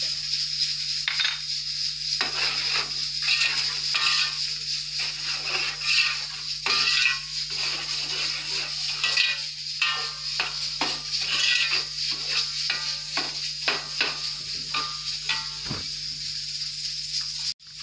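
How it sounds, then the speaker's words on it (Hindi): Metal spoon clanks and scrapes against a pan as yogurt and ground garam masala are stirred into softened frying tomatoes for mutton yakhni pulao, with steady close-up clatter and a constant hum underneath. "टमाटर तकरीबन गल गए हैं तो अब इसमें दही डाल रहे हैं और पिसा हुआ गरम मसाला ऐड कर रहे हैं"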